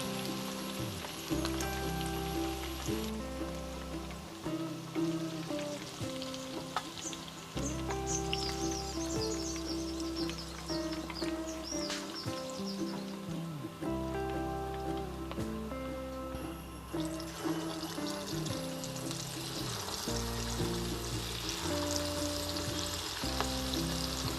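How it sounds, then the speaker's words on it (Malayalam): Chicken deep-frying in hot oil, a steady loud sizzle with bubbling crackle throughout, close and continuous, with faint clinks now and then. "ഇതുപോലെ എല്ലാം നമുക്ക് വറുത്ത് കോരാം."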